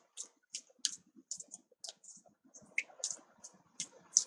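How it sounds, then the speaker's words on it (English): A fresh deck of Hocus Pocus tarot cards being shuffled by hand, a quick series of crisp, close card flicks and taps in irregular bursts, alone without talk. "It's going to take a bit of a shuffle."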